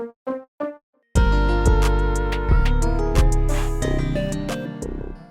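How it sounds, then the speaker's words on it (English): A short plucked synth note sounds alone three times, then layered synth chords and bright plucks of a new jazz/pluggnb beat play on, sustained and fairly loud. "So that's what this little pluck sound is."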